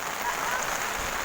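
Heavy rain pours steadily at Mount Samat in Bataan, a dense, even hiss of drops close by that fills the whole moment without a break.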